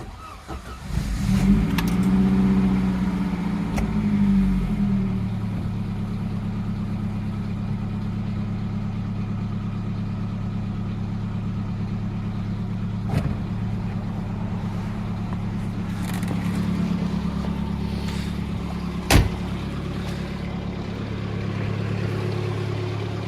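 A Saab Classic 900 turbo engine, fitted with heat wrap and a turbo blanket, cranks and catches with a loud surge, then settles into a steady, even idle for the remaining time, with a couple of sharp knocks along the way.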